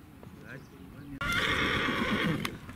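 Horses being ridden at a kok-boru team training session in Osh region, Kyrgyzstan; a loud, close neigh bursts out over quieter background noise and voices, with faint hoof clops.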